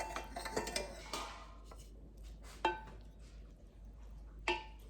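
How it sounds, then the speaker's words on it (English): Cooked pasta scooped out for a shrimp pasta salad with butter, producing light clinks and scrapes of a utensil against a dish in a close, quiet kitchen, with a few sharper taps spaced apart. "And I scoop out my pasta."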